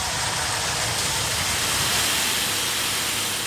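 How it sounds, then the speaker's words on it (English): Combat house robot Kill-A-Lot revving in the Robot Wars arena: a loud, steady, hissing mechanical roar that holds constant for the full few seconds, with no clear rises or pauses and no voices. "that's the cue for Kill-A-Lot to enter. Revving up to come in for the kill."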